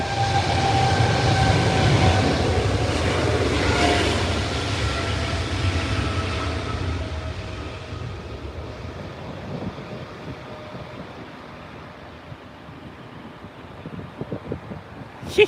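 An airliner at takeoff thrust at Heathrow rolls past with a loud, broad engine roar carrying the raspy buzzsaw tone, strongest early and fading steadily as it departs, heard alone with no talk.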